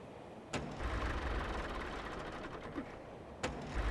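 In Farming Simulator 25, an old tractor engine cranks and runs with a rough, steady rumble, punctuated by a couple of sharp mechanical clicks.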